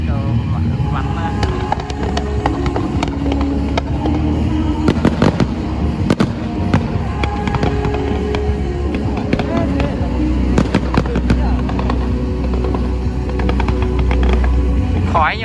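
Fireworks burst over an Obon festival in Obihiro, Hokkaido, Japan, with loud, rapid, overlapping explosions and crackles throughout. Crowd voices can be heard underneath.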